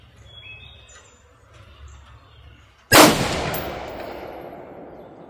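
A single rifle shot from AAC 77-grain open tip match 5.56x45 NATO ammunition cracks sharply out of a quiet outdoor background with faint birdsong, then rings and decays slowly over a few seconds.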